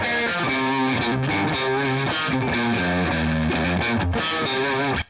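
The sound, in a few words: distorted electric guitar playing southern-style pentatonic metalcore riff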